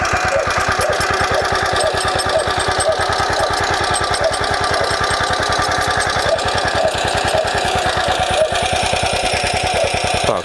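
A walk-behind tractor pulling a simple duck-tail potato digger through soil runs at a steady, loud engine chug with rapid regular firing pulses and rattling, continuous throughout with no talk.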